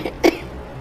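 A single short cough from a woman lying as a corpse in a morgue in the 2015 horror film Anna Fritz, one brief sharp burst over a quiet background.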